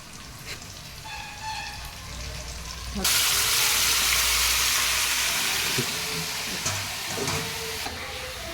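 Chicken leg pieces dropped into hot oil for deep frying, a loud, dense sizzle that bursts on suddenly and holds steady close by, with a voice talking over it.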